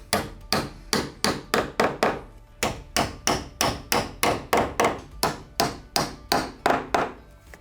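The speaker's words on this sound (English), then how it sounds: "Just take your hammer and lightly tap the hinge pins all the way in." Hammer lightly tapping door hinge pins into place during a door slab replacement, a long steady run of about twenty crisp metallic taps at a quick, even rhythm, close and clear.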